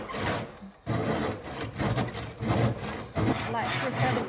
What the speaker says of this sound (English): So I'm gonna have to saw a little bit here from here and saw this off